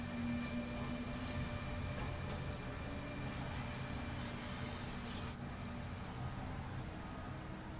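A train in the Train Simulator 2020 video game rolls along the rails with a steady, dense low rumble and faint high squeals near the middle, continuous and moderately loud throughout with no talk.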